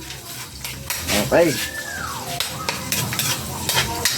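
Onions sautéing in a pan for pansit, with a soft sizzle under clattering utensil scrapes against the pan, a brief ringing metallic tone, and people talking over it.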